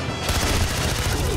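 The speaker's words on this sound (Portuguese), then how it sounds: "Vai que eu tô tomando tiro aqui, velho." Dense, continuous gunfire from a Far Cry 4 firefight, rapid overlapping shots and bursts filling the whole stretch at steady high loudness with no pauses.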